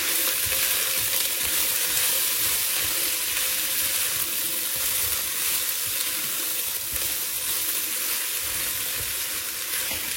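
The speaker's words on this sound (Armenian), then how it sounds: "Ու լավ խառնում ենք այս բոլորը" Red pepper stirred into a Spanish lentil soup in a pot, heard as a constant loud sizzling hiss with soft scraping of the spoon running underneath throughout, steady and unbroken with no voices.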